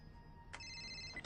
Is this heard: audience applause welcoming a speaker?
no